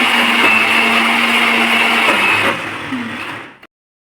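An electric grinder grinds batter with a loud, continuous motor whir and whine, then winds down and cuts off abruptly near the end, leaving silence.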